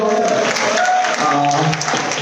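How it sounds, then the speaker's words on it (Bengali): An audience applauds during a volunteer gala night, a short burst of loud, dense clapping from a crowd close by, with voices mixed into the noise. "ওদের জন্য জোরে হাততালি দিয়ে বলো"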